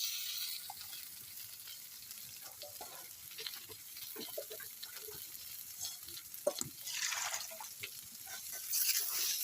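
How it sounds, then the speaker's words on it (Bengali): Water poured into a frying pan of spiced, fried food makes a low, steady sizzle broken by stirring clinks and a few louder hissing surges, close and quiet, with no talk. "ভাজা হয়ে গেছে, এবার জল দিয়ে দেব।"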